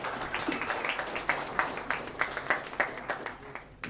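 Scattered audience clapping at a Kenyan forum on misinformation and disinformation, faint and uneven, with irregular individual claps rather than a dense ovation, a voice briefly audible beneath.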